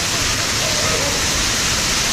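Water park fountain jets shooting up water at a resort water park, a steady loud broadband rush and spray that fills the whole clip without a break.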